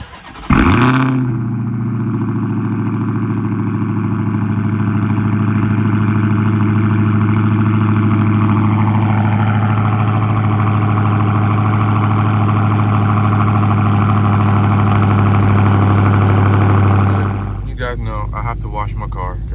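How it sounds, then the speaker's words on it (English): A car engine cold-starts with a sharp crank and catch, then settles into a loud, steady idle with a low droning hum for most of the time before cutting to other sounds at the end. "let's go ahead and get that cold start and head to Fremont."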